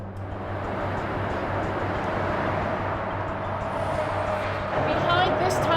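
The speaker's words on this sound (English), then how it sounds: "This is traffic in the West Tube" Steady motorway traffic roars through the A2 motorway tunnel's West Tube, a continuous broad rumble heard from inside an adjoining passage, swelling slightly louder near the end.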